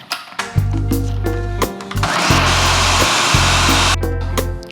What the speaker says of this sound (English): I'm gonna go ahead and puree my mango because that's the first thing you wanna do